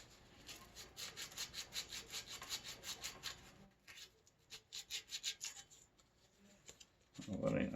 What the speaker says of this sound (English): I'll take my little piece of sandpaper here, and we will sand away some of this rust